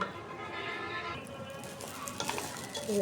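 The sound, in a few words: rice being fried and stirred in a pot for biryani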